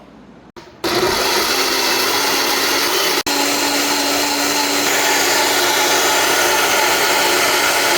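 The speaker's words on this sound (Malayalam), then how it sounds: "ആപ്പിൾ അടിച്ച് വെച്ചപ്പോഴേക്കിന് കളർ ആയി" A blender whirs steadily at close range, chopping one green apple with mint leaves and cold water into juice. It starts abruptly after a short quiet moment, dips briefly mid-run, then holds a loud, even motor drone to the end.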